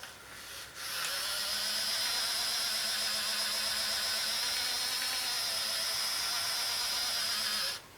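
A Hornby model railway turntable spins under motor power, giving a steady high-pitched whirring drone that starts abruptly, holds evenly for several seconds, then cuts off.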